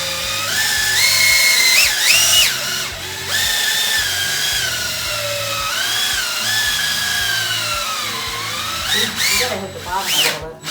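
Power drill with a mixing paddle stirring shower epoxy, a steady loud whine that rises and dips in pitch as the load changes, running continuously with brief pauses.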